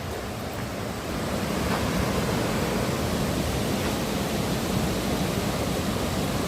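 A waterfall running with reduced flow gives a steady, close, broadband rush of falling water that continues unbroken, with no voices.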